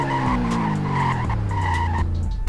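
A six-speed manual sedan in the Roblox game Greenville brakes hard from speed, its engine tone falling as tires squeal and skid for a couple of seconds, loud and unbroken.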